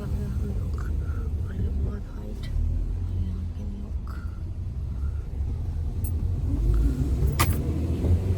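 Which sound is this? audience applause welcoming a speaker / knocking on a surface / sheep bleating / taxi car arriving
taxi car arriving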